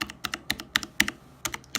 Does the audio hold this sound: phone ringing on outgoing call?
no